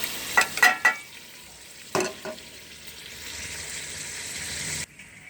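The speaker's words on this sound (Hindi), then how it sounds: "अब इसे अच्छी तरह भूनेंगे।" Chicken browning with yogurt and biryani spice mix for pulao sizzles and spits in a pot, with a few sharp scrapes of a spoon stirring it early on, then a steady low frying hiss that cuts off near the end.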